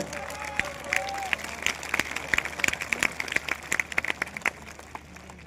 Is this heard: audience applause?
yes